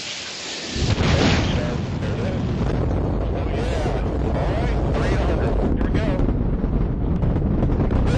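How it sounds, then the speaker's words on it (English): A deep, continuous space shuttle launch roar bursts in after a quiet second and holds steady and loud, a broad rumbling crackle filling everything to the end. "nothing compares to the power of the orbiter as it leaps off the pad on the solids"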